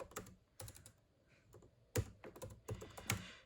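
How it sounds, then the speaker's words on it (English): Keys clack on a 2019 16-inch MacBook Pro keyboard in quick, irregular bursts of soft, close taps, with brief pauses between clusters. "if I type in this sentence right here"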